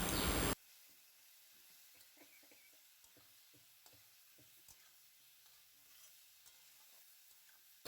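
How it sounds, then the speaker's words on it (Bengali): Ginger paste sizzles gently in a hot pan, a soft steady hiss broken by small scraping taps of stirring, quiet and close, with no voices. "আদা দেওয়ার পর একটু নাড়াচাড়া করে বেশ সুন্দর করে আদাটা ভেজে নিয়েছি।"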